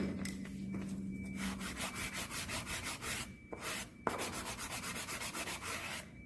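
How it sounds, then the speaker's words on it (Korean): Sandpaper rubbed back and forth over the edges of a leather passport wallet, a close, rhythmic scratchy rasping in quick strokes with a brief pause midway and no voices. "사포로 그 부분 갈아주시면서 전체적으로 한번"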